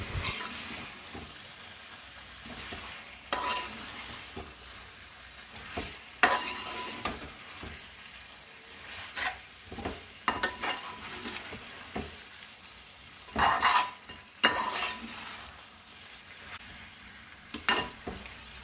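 Pepper chicken curry is stirred in a pan, with repeated spoon scrapes and clacks over a soft, steady sizzle, rising to louder bursts of stirring near the end and with no talking.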